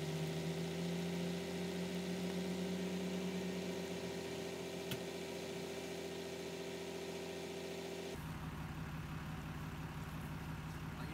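Truck engine idling steadily near the mic, a constant low droning hum with a faint tonal whine, shifting abruptly to a rougher, lower-pitched note near the end.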